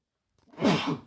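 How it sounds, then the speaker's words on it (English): A single short sneeze, fairly close and moderately loud, with a breathy burst that fades quickly. "Little sneeze there."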